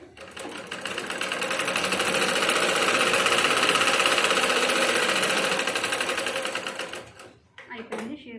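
A sewing machine stitches blouse fabric in a continuous fast, rattling run that swells and holds for several seconds before stopping, followed by brief handling clicks, with a voice speaking nearby.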